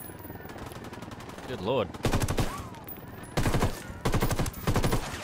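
Bursts of light machine gun fire in Ghost Recon Wildlands rattle out in rapid, loud volleys separated by short pauses, with a brief spoken exclamation between bursts.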